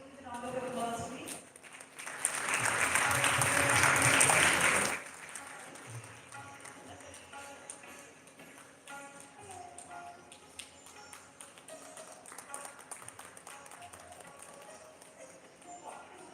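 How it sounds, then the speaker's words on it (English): An audience at a biotechnology conference breaks into a loud round of applause for about three seconds, then it fades, and speech and light tapping continue in a quieter hall. "A huge round of applause, please"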